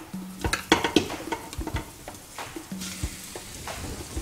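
Beef browning in hot oil in an Instant Pot on the saute setting, a crackling sizzle with stirring clatter and scraping, moderately near, with short bursts and a faint electronic beep in the background.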